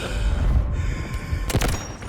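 Bursts of gunfire in the mobile shooter Delta Force Mobile, a steady barrage of shots and booms rolling throughout, with a louder close cluster of rapid shots near the end.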